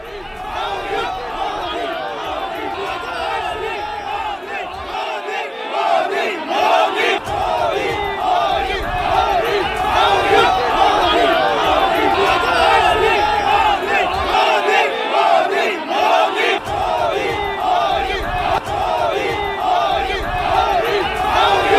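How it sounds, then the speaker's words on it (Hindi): A large crowd chanting Modi Modi slogans outdoors at a political gathering, loud and continuous with overlapping voices and rhythmic shouting, brief lulls between bursts of chant. "आसपास जो भीड़ नजर आ रही है वहां से मोदी मोदी के नारे लग रहे हैं, मोदी मोदी की आवाज यहां आ रही है"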